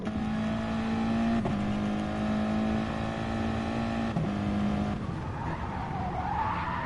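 A race car in a racing video game runs a steady high engine drone as it carries too much speed and goes off track, then the note drops away as the throttle lifts, with tyre skidding at the end.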